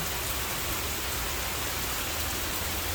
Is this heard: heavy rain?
yes